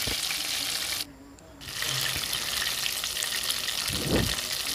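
Chicken leg pieces frying in a pan give a steady, loud sizzle through most of the stretch, broken by a brief near-silent gap, with a short stirring or scraping noise near the end.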